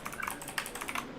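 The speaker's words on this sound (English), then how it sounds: "People can hear my keyboard clicking in the background." Computer keyboard keys clicking rapidly and continuously at close range, a dense, even patter of typing with no voices.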